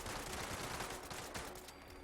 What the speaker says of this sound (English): I'm gonna shoot down this vertibot.